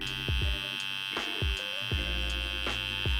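A tattoo machine buzzes steadily and close up as its needle shades real skin in small circular motions, with a few sharp clicks and taps breaking through the continuous electric hum.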